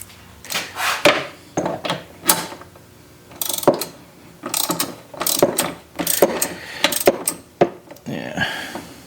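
A ratchet wrench tightens a 19 mm nut with washer during repair of an Earthwise shredder, producing loud, close bursts of rapid clicking separated by short pauses.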